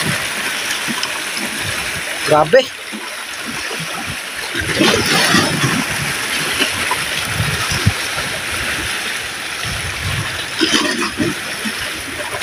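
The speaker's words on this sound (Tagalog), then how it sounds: "Laki na ng mga alon." Big sea waves slap and splash around a small boat in a steady wash of water, with louder surges every few seconds and a person speaking briefly.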